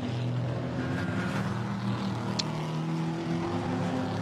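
GT4 race cars racing at Zandvoort, heard as a continuous distant engine drone with shifting tones and no clear individual pass-bys.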